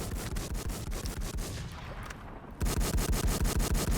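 Rapid bursts of automatic gunfire in the video game WarZ, loud and close, drop to a brief lull before the dense, rhythmic shooting resumes at full force.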